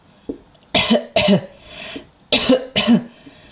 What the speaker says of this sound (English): I think George is coughing, Mummy Pig.